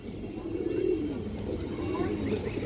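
Indian highflyer pigeons cooing in a loft, a steady low murmur of soft coos running continuously at close range, with a faint voice in the background.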